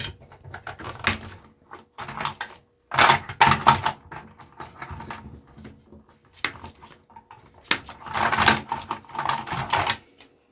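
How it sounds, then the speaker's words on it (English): Wire being cut out of a small scrap motor with a little circuit board, giving sharp clicking snips and rattling handling bursts in irregular clusters, close and fairly loud. "I'm gonna cut this wire out."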